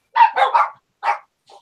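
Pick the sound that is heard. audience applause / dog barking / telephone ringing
dog barking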